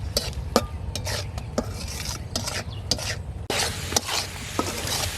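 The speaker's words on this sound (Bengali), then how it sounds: "এখন মশলাটা ভালো করে কষিয়ে নেবো" Spice paste with salt and a splash of water being stir-fried in a pan for a village-style taro-leaf dish, with a close, continuous sizzle broken by repeated scraping strokes of a spatula against the pan.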